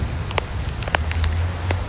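Rain patters on concrete and grass, a close, continuous wash with a few sharper drops striking nearby, and nobody speaking.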